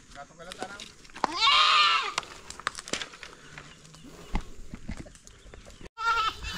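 Goats on a hillside farm bleat loudly and repeatedly, one long nearby cry standing out, with people talking over and between the calls.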